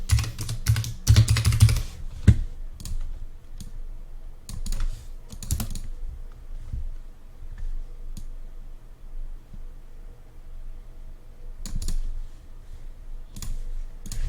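Computer keyboard typing, close and crisp, with a rapid burst of key clicks at the start, then scattered individual keystrokes and short flurries separated by quiet gaps.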